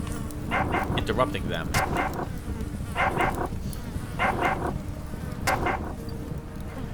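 Dogs fight in a pit in the video game Underrail, sharp barks and snarls bursting in short clusters over a droning buzz, with someone talking throughout.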